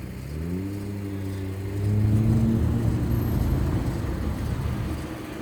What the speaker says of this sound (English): And then there's a Ferrari just having a spin round in the background